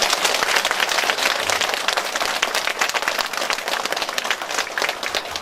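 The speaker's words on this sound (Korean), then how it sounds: "박수 한번 주십시오." Audience applause from local residents at a National Assembly member's constituency report meeting in Jeonju, a continuous crowd of clapping hands, dense and steady throughout with no talk over it.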